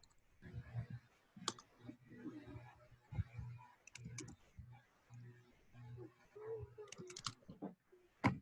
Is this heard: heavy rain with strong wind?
no